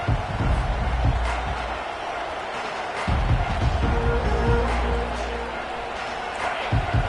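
A stadium crowd at a football game gives off a sustained, distant roar of cheering and noise, steady throughout with some louder swells, with no clear talk on top.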